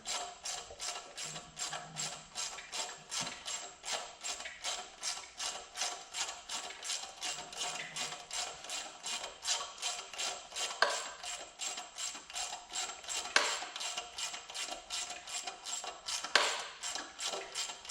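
Small bolts are snugged down during a Wahoo Kickr Move 180 trainer install, giving a faint, steady train of fast rhythmic ratcheting clicks that runs unbroken throughout.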